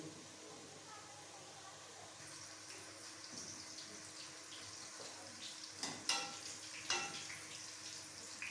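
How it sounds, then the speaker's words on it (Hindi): Boiled potato finger chips being half fried in hot oil outdoors in a village kitchen give off a soft, steady sizzle and bubbling hiss, faint throughout, with a few louder splashy bursts near the end. "अब हम ये हाफ फ्राई करेंगे"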